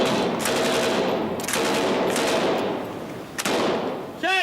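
Troops firing rifles and a machine gun at a target drifting toward the shore, loud rolling bursts of gunfire with sharp cracks repeating throughout and a brief faint voice near the end.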